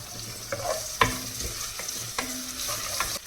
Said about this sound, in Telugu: ఇందులోనే కొంచెం వెల్లుల్లి పేస్ట్ వేసి కొద్దిగా వేగనివ్వాలి.